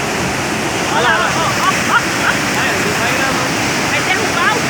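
Rainwater rushes in a heavy, continuous roar as part of an avenue collapses during a downpour, loud and close, with people's voices talking over the torrent.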